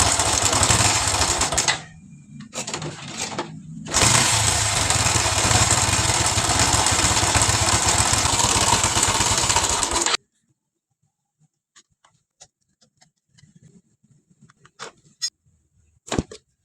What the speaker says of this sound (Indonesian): ada Honda Revo Absolute dengan keluhan mesin berisik